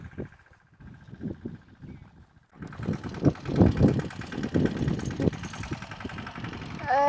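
A tractor engine runs on a village farm during groundnut work, first a quieter low rumble, then louder and fuller idling with steady knocking pulses, close by.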